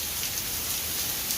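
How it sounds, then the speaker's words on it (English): Heavy rain pours down steadily as a dense, even hiss of drops striking surfaces, loud and close throughout with no other sounds. "if you really want this kind of rain, we'd be happy to send you a little bit every day"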